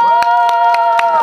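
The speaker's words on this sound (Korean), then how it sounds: "여서중앙지의 안동역에서 박수로 시작하겠습니다" Audience at a janggu drum performance in Yeosu claps in a steady rhythm, five loud, evenly spaced claps over a sustained musical tone with crowd noise.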